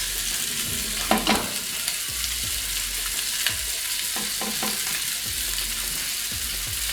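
A lamb rack sears in a hot pan, a continuous close sizzle broken by a few clanks and scrapes as the meat is turned, with no talking.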